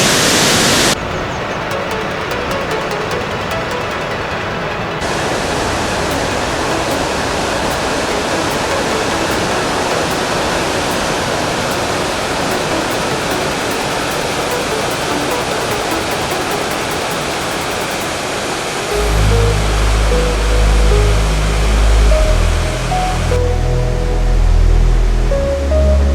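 A large waterfall in the Swiss Alps on the Tour du Mont Blanc roars as a loud, constant wash of falling water, with a lower rumbling tone coming in toward the end.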